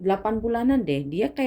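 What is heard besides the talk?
None of the usual background noises is heard.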